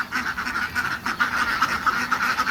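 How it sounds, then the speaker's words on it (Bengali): Farm ducks quack in a steady run of repeated, fairly close calls with a busy flock ambience behind them; no voices. "এই যে এক এক করে হাঁস বের হচ্ছে"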